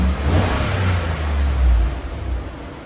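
A 2015 GMC Sierra SLT pickup with a 5.3L V8 and Borla Touring exhaust revs up and holds a deep, rumbling note, then eases off, heard fairly close and steady throughout.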